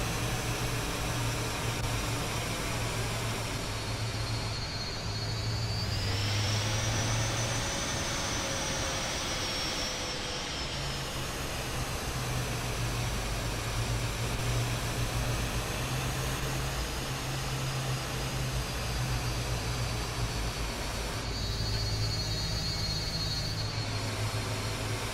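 Lockheed L-1011 TriStar trijet engines in Microsoft Flight Simulator 2024 produce a loud, continuous broadband roar with a high whine and low rumble, steady throughout, swelling slightly at moments, with no talk.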